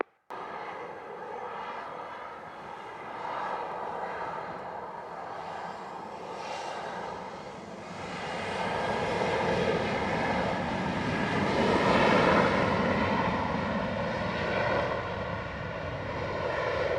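An airliner takes off from the runway at Montego Bay, Jamaica, its engines holding a loud, steady roar that swells and builds over the clip and grows louder toward the end.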